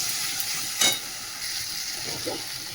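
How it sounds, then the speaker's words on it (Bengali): Tarka spices sizzling and being stirred in hot oil in a pan while dal is being made, a steady close frying hiss with one brief louder crackle near the start. "এই যে এর মধ্যে আমি তরকা মশলা দিয়ে দিচ্ছি।"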